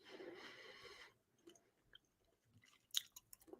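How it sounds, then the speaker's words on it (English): Soft, wet chewing of food close to the mic during a football preview stream, a few faint intermittent bites and squishes after an earlier stretch of other noise, quiet overall. "Just chewing away like mad there"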